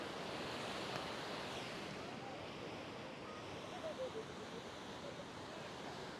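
Ocean surf rolls in steadily at Kuta beach in Bali at sunset, a constant washing roar of waves with some wind buffeting the microphone, no voices heard.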